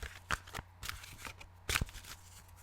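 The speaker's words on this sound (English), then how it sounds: "I'm just using these cards to get my inspiration going." Inspiration cards are shuffled by hand, giving a series of crisp riffling flutters and soft slaps in an irregular rhythm, close and fairly quiet with no talking.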